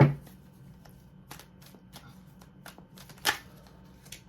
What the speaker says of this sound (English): Let me do a couple more shuffles for you.